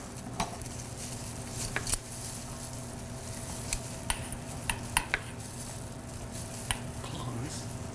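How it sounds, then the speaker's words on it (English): Cream cheese and shredded cheese being mixed in a bowl with tongs, a faint steady background broken by scattered soft clicks and scrapes of metal against the bowl, with no talk. "we're going to be mixing together our cream cheese and cheese together in a mixing bowl with tongs"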